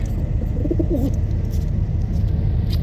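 Pigeons coo softly in a short, warbling phrase partway through, set against a steady low rumble of background noise with no talking.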